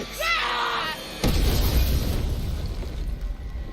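Grenade blast in an Apex Legends cinematic: a sudden loud explosion with a heavy low boom that rumbles and fades, preceded by a short musical or voiced passage.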